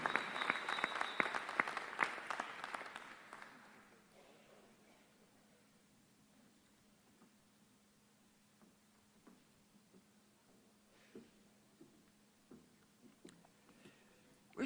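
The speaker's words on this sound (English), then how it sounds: "Please join me in giving another round of applause to the class of" A convocation audience at UPEI applauds the graduating class of 2023, a loud burst of clapping for about four seconds that quickly fades to a quiet hall with scattered faint sounds.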